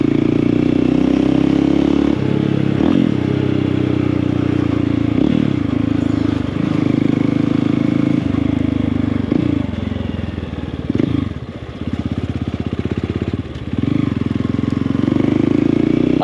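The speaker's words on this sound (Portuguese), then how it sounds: "E não tem problema reduzir a moto, mas tem que ser só no giro certo do motor." Motorcycle engine heard while riding and downshifting, a loud close drone that rises and falls through several gear changes with clattery chain and mechanical noise, steady throughout with no talk.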